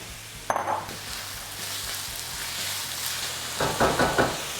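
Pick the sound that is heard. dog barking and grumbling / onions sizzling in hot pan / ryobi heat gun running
onions sizzling in hot pan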